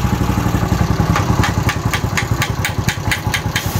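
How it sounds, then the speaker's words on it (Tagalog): A motorcycle engine that has run dry of engine oil idles loudly and close by, with a rapid uneven chugging pulse and sharp knocking ticks. "Natuyuan na naman ang motor ni sir."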